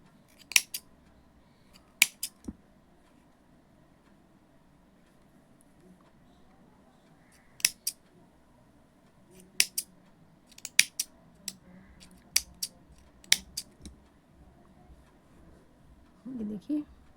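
Scissors snip crochet thalposh threads in short sharp clusters of close, crisp cuts separated by quiet pauses, with a voice talking at times.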